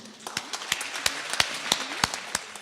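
Scattered, irregular hand claps from an audience at a Confucius Institute ceremony in Clermont-Ferrand, France, sharp individual claps spaced apart rather than a full roar, with no talking.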